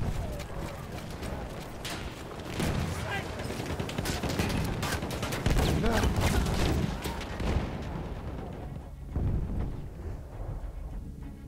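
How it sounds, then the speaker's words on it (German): Battlefield 1 battle with a grenade explosion and dense, rapid gunfire, a near-continuous barrage of loud cracks and booms that thins out toward the end. "Ich werfe eine Granate!"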